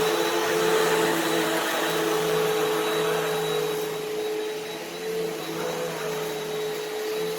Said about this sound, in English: You can hear it picking up stuff that the other vacuum didn't pick up.